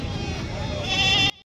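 A sheep or goat bleats loudly and close by at a busy livestock market, one sustained wavering call against faint crowd noise, ending abruptly.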